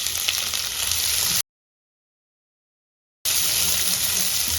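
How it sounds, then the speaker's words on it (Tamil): Sliced big onions frying in a pan after ginger garlic paste for Tamil pepper chicken, a loud steady sizzling hiss interrupted by a sudden gap of total silence before resuming. "வெங்காயம் நல்லா வணங்கி வரணும்"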